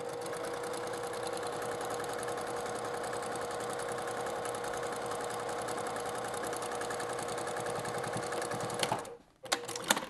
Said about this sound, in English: we're just going to sew this straight through